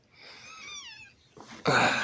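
A young kitten gives a thin, wavering mewl up close, then a short hissing, sneeze-like burst of breathy noise ends the moment.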